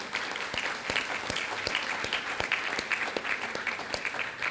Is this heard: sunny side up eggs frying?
no